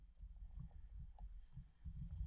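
Quiet, irregular key clicks from typing on a computer keyboard, soft and close, over a low background hum with no talk.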